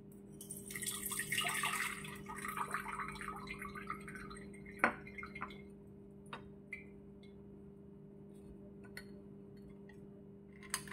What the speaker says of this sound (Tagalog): meron ako ditong salaan at ilagay natin dito